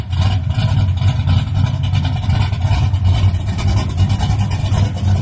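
Idling up close, a car running single-chamber mufflers on a 3-inch exhaust holds a loud, even, low burble for several seconds, alone.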